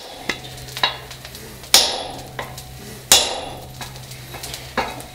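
A hand hammer strikes hot steel while forging a clipping hammer, about eight sharp metallic hits in a loose, uneven rhythm, each ringing briefly, with two heavier blows standing out and a steady low hum underneath.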